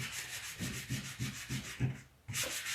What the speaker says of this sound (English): That was the only part that I hadn't scuff sanded.